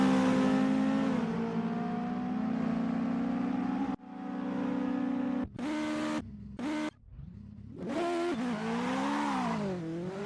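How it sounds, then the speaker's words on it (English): Racing-game engines of US Legend cars at Charlotte rev hard and drone loudly, with a sharp cut-out and several quick throttle blips and gear shifts before climbing again. "The engines are revving up"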